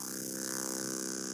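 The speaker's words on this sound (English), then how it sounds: "Just straight, sustain, sine waves." Sustained sine wave synth note built in Logic, a steady unbroken tone held at even loudness throughout, alone.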